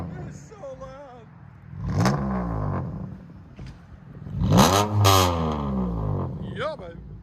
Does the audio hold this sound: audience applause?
no